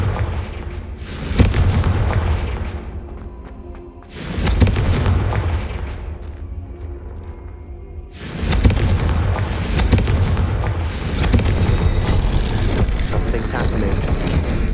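Confringo fire spell blasts in Hogwarts Legacy go off as several loud, sudden booming explosions, each trailing into a rumbling decay, with short spoken words between them.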